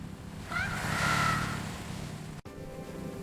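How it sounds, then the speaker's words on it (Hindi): A car engine turning over and catching in an animated story, heard as a rising whirring whine that swells and settles into a steady running hum, moderately loud with no speech. "इंजन ने आवाज दी"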